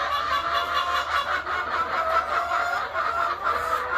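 Domestic chickens kept by a couple in Kenya cluck and call steadily throughout, a close, continuous flock chatter with repeated pulses and no talk over it.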